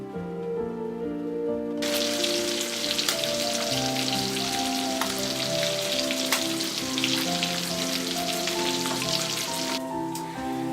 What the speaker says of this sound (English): I've been here frying up some fresh bacon